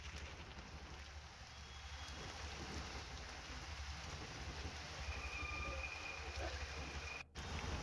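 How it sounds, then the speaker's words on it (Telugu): Heavy hailstorm rain pours down in Hyderabad, a faint but continuous wash of rainfall hiss over a low steady rumble, with one brief dropout near the end. "సడన్ గా వాతావరణం మార్పు చెందడం, అలానే భారీ వర్షాలు సైతం పడుతున్నాయి"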